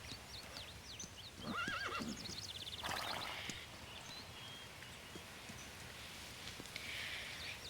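A horse whinnies loudly in a rising and falling call, with clip-clopping hooves and rustling around it, fairly close in an outdoor ranch setting.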